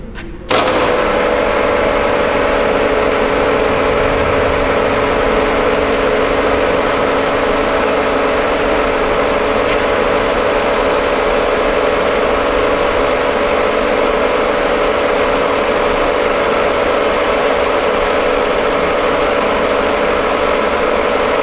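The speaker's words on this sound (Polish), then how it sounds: "Zaraz będzie, zobaczymy pracę maszyny." A 1990 FWD-32J milling machine runs steadily at close range, its motor hum and tonal whine holding constant and loud after a brief start, with no talk.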